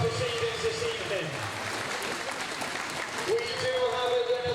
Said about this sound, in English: let's have a massive round of applause for Riley and for Ashton.